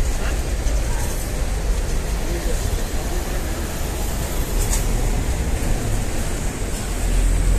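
Broad rumbling train-station noise in Duque de Caxias, Rio de Janeiro, with a steady low roar of rail traffic and machinery that stays loud and continuous throughout.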